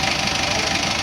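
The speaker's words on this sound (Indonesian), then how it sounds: "mesin Panther 7 bangku pesanan dari Demak ya" An Isuzu Panther seven-seat engine runs steadily at idle, a close, even mechanical hum with a faint knocking texture for about a second, with no talking.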